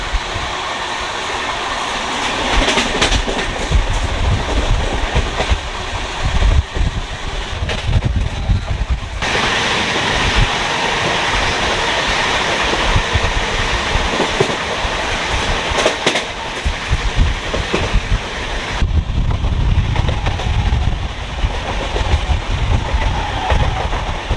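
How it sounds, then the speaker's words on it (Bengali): A local train rumbles past close by at Shaktigarh, seen from a moving train, loud and continuous, with rhythmic clattering of wheels over rail joints and wind noise throughout. "এটা লোকাল ট্রেন যাচ্ছে দেখো দেখো লোকাল ট্রেন"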